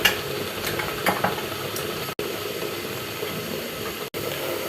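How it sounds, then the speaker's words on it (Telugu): Masala paste sizzling and frying in a pan while being stirred, a steady close hiss with scraping stir strokes near the start and two brief dropouts. "బాగా ఫ్రై చేసేసుకోవాలి."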